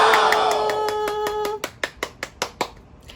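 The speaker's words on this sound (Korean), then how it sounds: "박수!" A few hands clapping for a channel milestone, around seven or eight sharp, evenly spaced claps close by, following a sustained tonal sound at the start.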